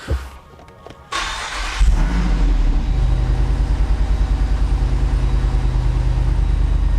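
A Jeep Wrangler Rubicon 392 Xtreme Recon's V8 cranks briefly, then fires into a loud roar and settles into a deep, throbbing idle, close by with no talk.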